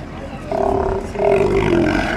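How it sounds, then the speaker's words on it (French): Sea lions bellowing in two drawn-out, throaty roaring calls close by, the second call longer and louder than the first, with no talking. "En fait, c'était des otaries, c'était pas du tout des phoques."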